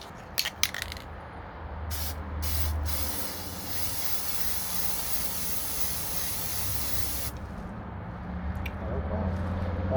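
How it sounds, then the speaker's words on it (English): An aerosol can sprays onto a candle in one long, loud hissing burst of several seconds, with a few short clicks and rattles before and after it. "probably is a good idea to try to spray this on again to something different"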